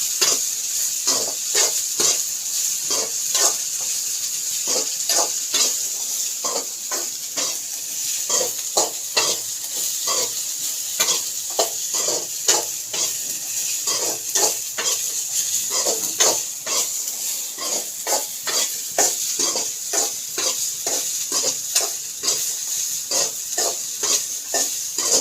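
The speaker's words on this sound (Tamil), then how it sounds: "நல்லா வதக்கியாச்சு" Sliced okra sautéing in a pan with chili powder and turmeric for okra pachadi, a steady close sizzle and hiss broken by frequent rhythmic scrapes and clacks of stirring throughout.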